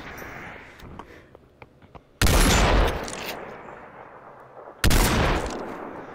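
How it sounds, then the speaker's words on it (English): Tournament video game gunfire comes in two loud, sudden bursts of rapid shots, each trailing off, with lighter clicks and taps before the first burst. "You shot me through a fucking wall."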